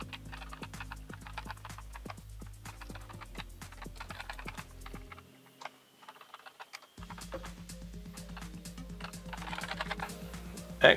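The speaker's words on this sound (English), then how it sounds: "Let's see what the keyboard does." Keys being pressed on an Acorn BBC Model B computer keyboard during repair and restoration, a long irregular run of crisp clicks and clacks over a low machine hum that briefly drops out, with no talking.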